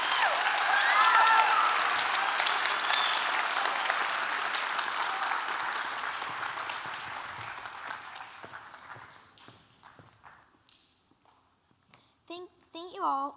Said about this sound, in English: Please give another round of applause for Paige.